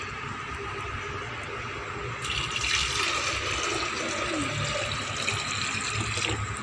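Falsa fruit juice, squeezed from the pulp, is poured back into a jug. A steady splashing pour starts partway through and runs to the end over a low background hum.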